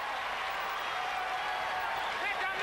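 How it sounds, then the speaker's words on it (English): A basketball crowd at the 1994 FIBA World Championship game between the USA and Spain roars and applauds after a slam dunk, a dense, steady wash of cheering noise heard from within the arena, with commentary talking over it. "Crowd going wild"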